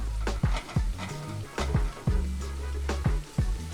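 Garlic sautéing in a pan, stirred around as it cooks, gives a steady soft sizzle with several sharp scraping or clacking stirs at irregular intervals, close and fairly quiet, with no talk.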